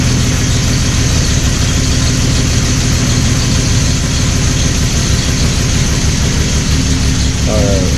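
A car engine idles loudly and steadily while the car sits on jack stands after a swap to cheap eBay ignition coils, a constant low rumble close by with a brief mechanical squeal near the end.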